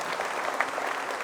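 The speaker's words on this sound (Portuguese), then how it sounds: "Uma salva de palmas a Deus por este homem." A church congregation at a thanksgiving service applauds in a steady, even patter of many hands clapping at moderate volume, heard alone.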